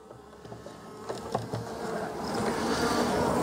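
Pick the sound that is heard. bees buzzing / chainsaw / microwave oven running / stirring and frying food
bees buzzing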